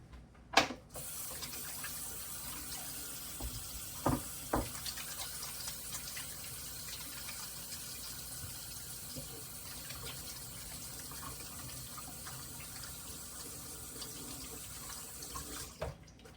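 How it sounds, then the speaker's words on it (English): Tap water runs steadily into a kitchen sink while hands are washed, a continuous close gush broken by a few splashes and clunks at the start and end, with no talking. "I gotta wash my hands."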